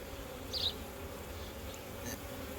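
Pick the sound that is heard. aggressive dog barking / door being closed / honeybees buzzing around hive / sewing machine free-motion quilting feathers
honeybees buzzing around hive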